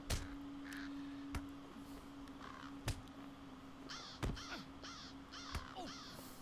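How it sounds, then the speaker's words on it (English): Inside a video game, a crow caws repeatedly in short, harsh calls spaced a second or so apart over a quiet ambient hum, with sharp clicks or taps scattered between the calls. "Another stupid crow."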